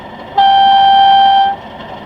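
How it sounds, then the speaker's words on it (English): A single steady, high-pitched air horn blast from an OO gauge Accurascale Class 37 model locomotive sounds for about a second, clean and sustained, then cuts off against a faint background hum. "function 3 we have high tone air horn"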